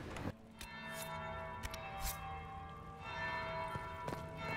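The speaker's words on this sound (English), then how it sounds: "That's the bell. I should get back to the ballroom." A church bell tolls in Dragon Age Inquisition, slow resonant strikes with long ringing decay, moderately distant, heard alone with no voices over it.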